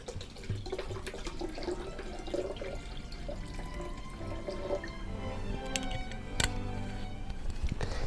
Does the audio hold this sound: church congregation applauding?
no